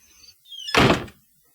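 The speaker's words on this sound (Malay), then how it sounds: "sekali lagi saya dengar bunyi macam orang cuba buka pintu" A door being tried and pushed open in a hotel room at night, heard as one loud, close thud-and-rattle of the door lasting about half a second after a brief quieter scrape.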